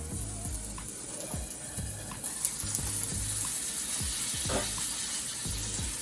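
Tofu sautéing in a pan with a steady sizzle throughout, broken by repeated scraping, clacking stirs of a utensil against the pan at a close, fairly even rhythm.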